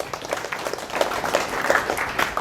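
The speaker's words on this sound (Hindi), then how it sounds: "इन दोनों के लिए तालियां होनी चाहिए" Applause from an audience at a career counselling session for two named attendees, a continuous moderate clatter of many hands, fairly close and without speech over it.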